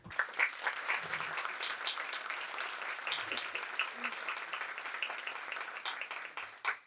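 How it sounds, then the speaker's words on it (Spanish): Audience applause welcoming a professor at a talk on generative AI in archival work, a moderate, even clapping from a seated crowd with faint voices mixed in, held steady throughout. "les pido por favor un fuerte aplauso y la bienvenida al profesor Francisco José Jiménez Alcarria"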